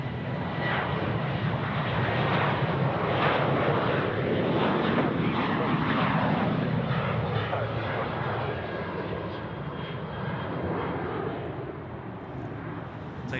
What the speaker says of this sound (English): We've got our Velocity friends, Boeing 738, now rolling runway 34 right.